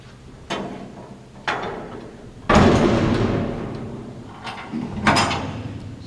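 The half door of a custom-built chip van is worked, with a couple of light knocks followed by a louder rattling slam and a final clunk, heard close against a quiet background.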